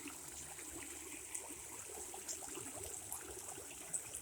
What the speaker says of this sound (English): Little rapids going down through there.